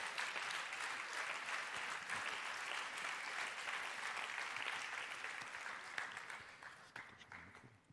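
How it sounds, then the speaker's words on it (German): An audience gives sustained welcoming applause, a dense steady wash of clapping that slowly thins and fades toward the end. "aber erstmal ein großer Willkommensapplaus und einen Applaus für diese Leistung."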